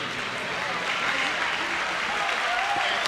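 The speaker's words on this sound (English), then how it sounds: "give a nice round of applause" Crowd applause in a gym at a 2001 boys' high school all-star basketball game, a steady rolling patter of clapping with some voices mixed in.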